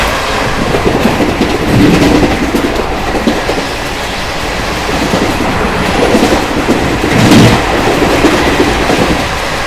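A Garib Rath Express (Ranchi service) runs on the rails between Kanpur and New Delhi, with a loud, continuous rolling rumble and clatter of wheels and carriages heard steadily from on board.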